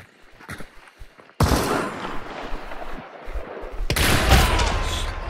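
Loud video-game gunfire from Hunt: Showdown: a sudden heavy burst of shots and rumbling reports after a quieter opening, then a second intense volley near the end, with no talking.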